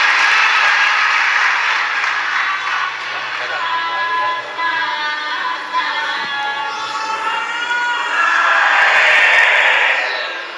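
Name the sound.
audience applause at a religious discourse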